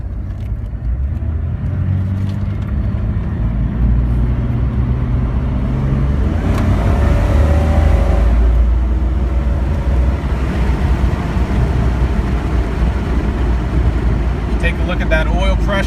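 A lifted Jeep Cherokee Sport XJ engine roars under full throttle, a loud steady low rumble heard from inside the cabin as it builds and pulls, with a brief rising whine midway.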